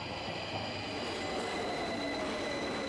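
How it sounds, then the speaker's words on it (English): An underground metro train grinds through a station deep below the street, its wheels giving a sustained high squeal over a steady rumble with no voices. "It screeches to a stop."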